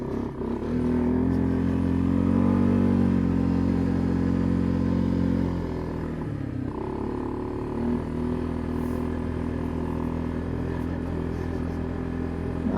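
A Suzuki Eiger 400 ATV being ridden, its engine droning loud and steady nearby, with a strong surge early on that settles into a continuous running note.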